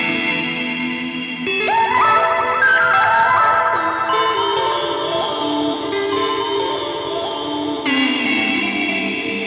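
An electric guitar through a Therme pitch shifter pedal, drenched in shimmering pitch-shifted effects, notes stacking into bright, echoing layers that sustain continuously without pause.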